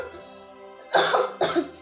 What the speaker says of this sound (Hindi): सॉरी, मुझे थोड़ा सा खांसी है।